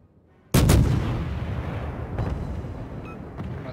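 Warship guns firing in World of Warships: one loud, close heavy cannon boom with a long rumbling decay, followed by a fainter second report.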